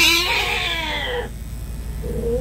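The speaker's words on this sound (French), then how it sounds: "le chat, il gueule parce qu'il est fâché" An angry, aggressive cat gives a loud, wavering yowl lasting over a second, then pauses before starting a second, shorter cry, close by over a steady low background hum.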